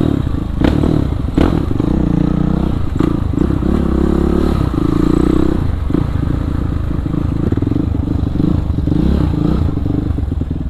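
A Kawasaki KLX supermoto bored up to 450cc rides around Bandung, its engine a loud, rough, continuous drone up close, broken by a few knocks and rattles.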